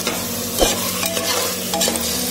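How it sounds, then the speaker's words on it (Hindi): Turmeric sautés with tomato and onion in a pan for a spicy taro root gravy, sizzling steadily up close while a spoon stirs and scrapes against the pan several times. "दो मिनट तक आप अच्छे से हल्दी को टमाटर प्याज के साथ भून लें"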